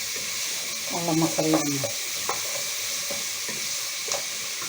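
Ingredients dropped into a pot for lentil soup sizzle with a steady hiss and crackle, while someone speaks briefly partway through over the continuous frying.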